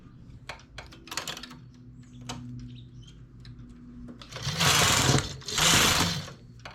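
Knitting machine working a leaf and eyelet lace stitch: light clacking and ticking of the needle bed, then two loud rushing sweeps of the carriage across the bed, close and alone without talk.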